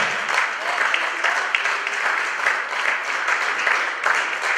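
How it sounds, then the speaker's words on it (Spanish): Sustained crowd applause at a church service, a dense, even wash of many hands clapping that holds steady throughout. "Dale un aplauso a Cristo porque esto lo dijo Él."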